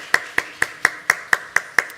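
One person clapping steadily at a church youth service, eight sharp, evenly spaced claps, close and crisp, with no crowd joining in.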